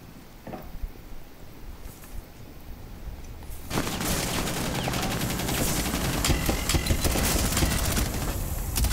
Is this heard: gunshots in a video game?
yes